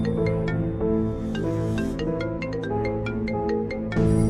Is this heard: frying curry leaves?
no